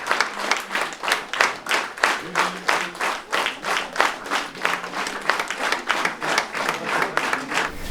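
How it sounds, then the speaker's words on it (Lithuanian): Audience at a thank-you evening event in Teizai, Lazdijai district, clapping in a fast rhythmic unison beat, loud and close, without talk. "Aplodismentai Angelei"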